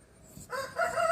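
The rising start of a rooster's crow, short and fairly faint, cut off after about a second.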